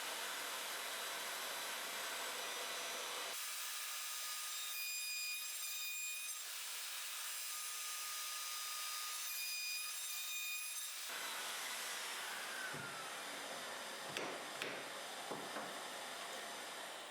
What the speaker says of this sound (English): I'll use the mortiser's attachments, which will help me cut them in a more comfortable and accurate way